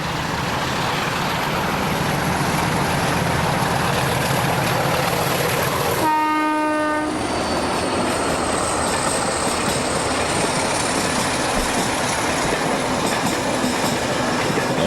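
Portuguese Railways diesel locomotive running with a steady heavy rumble, wheels clattering on track, and a loud multi-tone horn blast sounding for about a second midway before the engine drone carries on.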